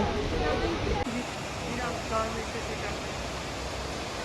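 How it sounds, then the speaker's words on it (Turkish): The Yenintili waterfall in Ayder gives a steady broadband roar of falling water that fills the scene, while a person speaks over it. "Ve karşınızda Yenintili Şelalesi."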